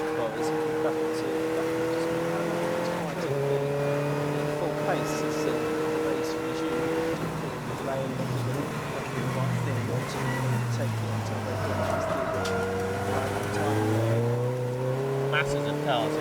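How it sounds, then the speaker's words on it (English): Racing cars, including a Tempest Sport and a BMW M3, sweep down toward the Melbourne Loop at Donington Park GP circuit during a 750 Motor Club endurance race, engines droning and shifting through gears continuously, with a commentator talking over them. "Masses of cars here coming down towards the Melbourne Loop"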